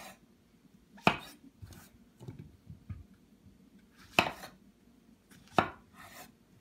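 A knife cuts mushrooms into quarters on a board, with three sharp, distinct chops spaced a few seconds apart and softer knocks and scrapes between them.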